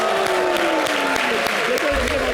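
Studio audience applauding on a French-language television variety show, a steady wash of clapping carried under music with tonal lines running throughout.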